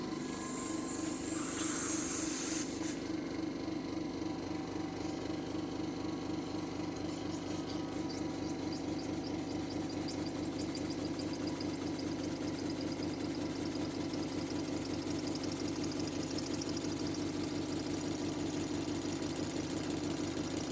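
A model Elizabeth horizontal single acting steam engine running on compressed air gives a steady, fast mechanical chuffing and rattling throughout, close and even, with a brief hiss of air near the start and no talk.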